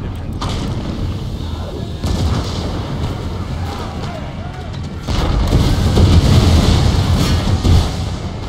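Musket volleys crackle across an Empire: Total War battle with grenadiers, rolling gunfire and booms layered into a dense, continuous din that swells louder midway.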